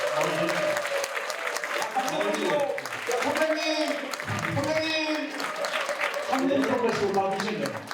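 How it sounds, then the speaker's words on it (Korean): Big round of applause from guests at a Thanksgiving charity dinner in New Jersey, sustained throughout, with music and voices mixed in underneath. "다시 한번 큰 박수로 부탁드리겠습니다."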